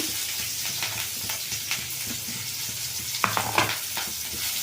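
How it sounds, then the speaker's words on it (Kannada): Onions frying in hot oil, a continuous close sizzle with crackling pops and a louder flare of spatter near the end, heard alone without talk. "ಈರುಳ್ಳಿ ಸ್ವಲ್ಪ ಚೆಂದಾಗಿ ಫ್ರೈ ಆಗಲಿ ಎಣ್ಣೆಯಲ್ಲಿ"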